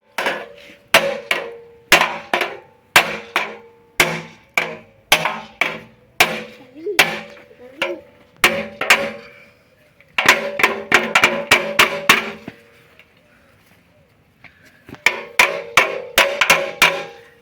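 Repeated sharp metal hammer blows knocking off an old exhaust muffler on a Kia Sorento III, in quick bursts, ringing clangs with short pauses between series, close and loud in a workshop.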